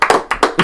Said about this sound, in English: Still clapping